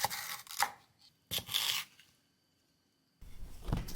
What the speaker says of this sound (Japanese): 2センチ幅ぐらいの厚めのいちょう切りにします